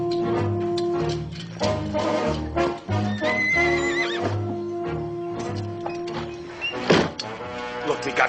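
A horse neighs loudly and close by, with hoof clops and thuds around it and people talking over part of it.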